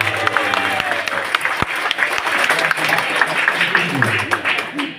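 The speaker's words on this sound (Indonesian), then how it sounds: "Tepuk tangan dulu." An audience at a thanksgiving gathering for a new army non-commissioned officer applauds, a loud, lively burst of clapping and crowd noise with a few sharp claps and voices mixed in.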